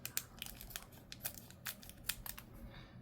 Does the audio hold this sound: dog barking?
no